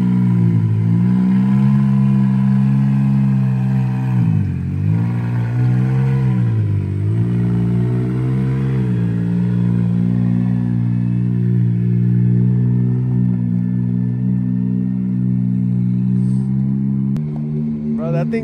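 A custom Can-Am engine built by Steele Performance roars loud and close in a steady, buzzy drone, dipping and surging in revs a couple of times before settling back to a constant idle-to-mid rev.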